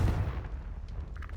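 A Confringo blasting spell goes off in the Hogwarts Legacy video game as a loud, close, low boom that rumbles briefly at the start and then fades into a rough, sustained tail.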